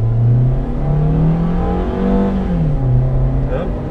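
A Toyota Rush accelerates, its engine drone rising and dipping in pitch as the revs build, heard from inside the car with people speaking.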